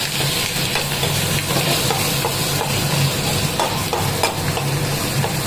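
Tomatoes and curry leaves sauté in hot oil for a cabbage kootu, a constant close sizzle broken by light scraping and stirring sounds, with no talking.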